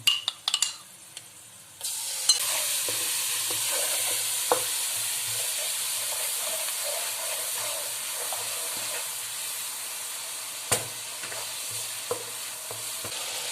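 Yogurt fries in hot oil with spices over a high flame, giving a steady close sizzle and hiss. Occasional spoon clinks and stirring knocks cut in, and a louder burst comes at the very start.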